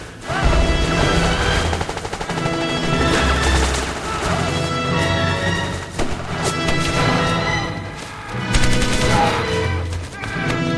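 Machine gun fire in a war scene, dense crashing bursts and rattling volleys that fill the whole stretch with loud, chaotic battle noise and impacts.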